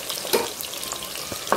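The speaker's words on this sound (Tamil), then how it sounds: "வெங்காயம் வதக்கும் போது உப்பு போட்டுக்கலாம்" Onions sauté in a pan with a steady, close sizzle, broken by a few soft scraping stirs, while cooking for a Chettinad mushroom biryani.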